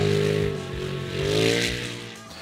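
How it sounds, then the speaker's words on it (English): An S&S PowerTune XTO muffler on a side-by-side such as a Polaris RZR XP Pro, XP Turbo or XP 1000, Honda Talon or Kawasaki KRX gives a loud, steady, throaty exhaust drone that swells briefly mid-clip and then eases off. "The mufflers can be tuned for sound and power by swapping out the dB reducers."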